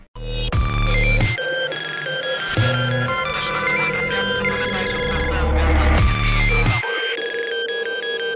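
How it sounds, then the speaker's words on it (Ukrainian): A phone ringtone from a promotional clip plays as a loud, bright melodic electronic tune with repeated chiming notes and a steady beat, filling the whole stretch without pause. "згадали про рінгтон, оцей останній, що звучав"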